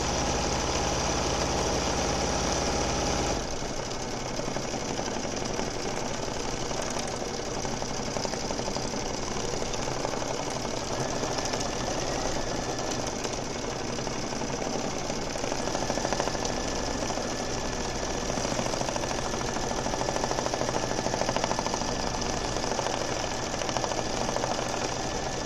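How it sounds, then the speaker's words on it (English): A computerised embroidery machine stitches a twill badge, its rapid needle chatter running steadily and loudly throughout with a jerky mechanical pulse as the table shakes. "my arm is on the embroidery machine's table, so it's jerking as it's sewing"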